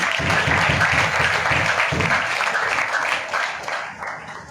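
Church congregation applauding the Lord during a sermon, a steady, dense burst of many hands clapping that holds loud and then thins slightly toward the end.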